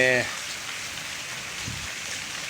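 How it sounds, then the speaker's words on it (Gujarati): Steady rain pours down in Porbandar in a continuous hiss, with a brief voice at the very start. "વરસાદ ચાલુ છે"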